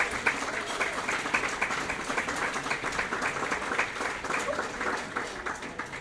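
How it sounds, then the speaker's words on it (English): Audience applause fills a room at a chamber of commerce awards ceremony, steady and dense clapping from a large crowd sustained throughout without a break. "Come on up, you guys, and keep the applause going."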